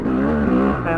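A car engine revs hard at high speed, held in the wrong gear, a strained droning roar that runs steadily through the moment and shifts pitch near the end.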